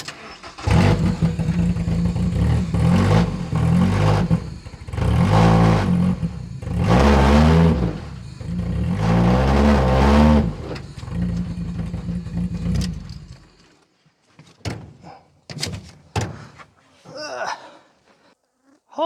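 A demolition derby car's engine revs hard while reversing, giving loud, rough, rising and falling pulses for several seconds, then cutting back to quieter clunks and scattered knocks.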